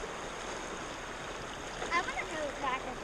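Creek water runs in a steady, close rushing wash on a hot West Virginia day, with brief faint splashes and indistinct voices near the end.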